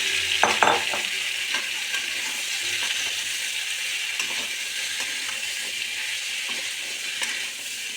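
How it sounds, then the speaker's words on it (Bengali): Young jackfruit fries in hot oil with a continuous crackling sizzle, and early spatula scrapes and knocks against the pan as it is stirred, heard close up with no speech. "এবার ওই তেলেই এঁচোড়টা দিয়ে একটু ভেজে নিতে হবে তেলে"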